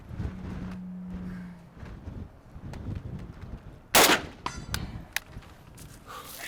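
Gunshots from a rifle fitted with a Russian Cobra red dot optic, one loud sharp crack standing out with a few fainter shots and clanks around it over outdoor background noise.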